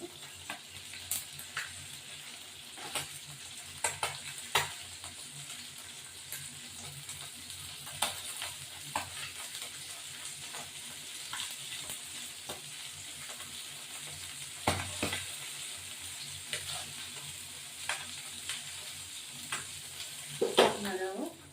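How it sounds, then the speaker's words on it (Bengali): Tengra fish fries in a pan with a steady, quiet sizzle, punctuated by scattered pops and occasional scraping stirs. "এবার এই মাছটা এই যে ট্যাংরা মাছটা ভাজছি"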